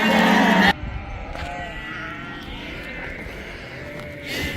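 A loud, harmonic lamb bleat rings out at the start, then stops abruptly, leaving a quieter stretch of farmyard noise with faint rustling and a soft call near the end.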